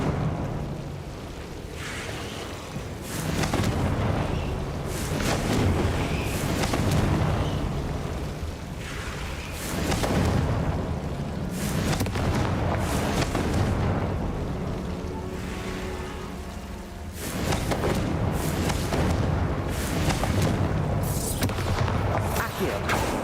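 Confringo fire spells explode again and again in the video game Hogwarts Legacy: loud, booming bursts come in waves over a dense, continuous rumble of in-game effects.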